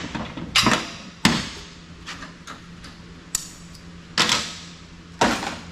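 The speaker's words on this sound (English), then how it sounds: "So we're just unscrewing stuff here." Parts are unscrewed from a scrap telecom fan base: sharp, close metallic clicks and taps come one at a time at irregular spacing, each dying away quickly over a quiet background.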